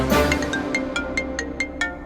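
A repeating electronic ring tone pulses at a steady rhythm, about five short tones, fairly clear with a faint hum beneath.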